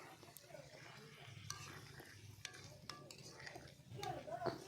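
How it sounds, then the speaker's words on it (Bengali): Chicken pieces are stirred in hot oil with spices in a pan, giving soft scraping and clinking strokes over a faint sizzle, with a louder burst of stirring near the end. "এখানে মাংসটাকে ভালো করে নাড়াচাড়া করে নিচ্ছি"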